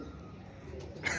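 A pigeon coos briefly at a pigeon keeper's loft, a short, low call that sits close against a steady background murmur.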